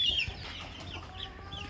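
Chickens of an upgraded native breed clucking close by at early feeding time on a farm, short soft calls under a faint outdoor background.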